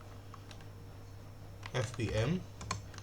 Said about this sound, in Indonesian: Caranya adalah dengan mengetik perintah sudo apt install